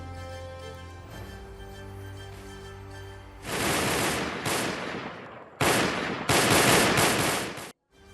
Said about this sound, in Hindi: इसके बाद इजराइल की पुलिस इन लड़ाकों पर ताबड़तोड़ फायरिंग करती है